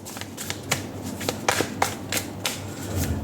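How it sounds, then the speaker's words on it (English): A deck of oracle cards being shuffled by hand, giving a steady run of soft, close papery riffles and crisp flicks with no talking. "So I'm going to shuffle and pull out 4 cards, and then we'll shuffle the other cards as well."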